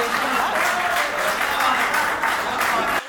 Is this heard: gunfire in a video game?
no